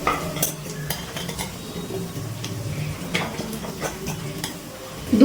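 Ground roasted spice mix being stirred into a pan of new potatoes and peas for Bengali aloo dum, with a spoon scraping and tapping against the pan over a soft sizzle, steady and close.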